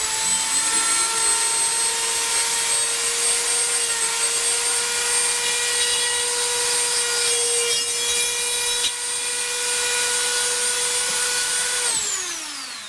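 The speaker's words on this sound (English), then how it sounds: "quickly flick my Dremel on, and I'm just going to put a simple 2mm pilot hole down through the top kit like this." A Dremel rotary tool drills a 2mm pilot hole through a carbon top kit while fitting a Vespa stripper bush. It gives a steady, loud, high-pitched motor whine for about twelve seconds, then winds down at the end.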